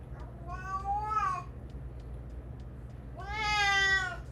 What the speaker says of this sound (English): My cat is being silly.